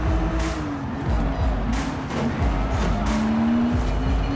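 A 2023 Porsche 911 GT3 RS races in Forza Horizon 5, its high-revving engine rising and shifting through gears, with tire squeal and rival cars rushing past in repeated bursts, loud and close.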